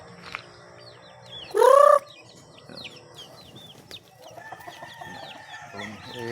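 Pet chicks peep and cheep in a lively scatter of short high calls near their caged mother hen, with a louder fowl squawk bursting out early on over quiet background.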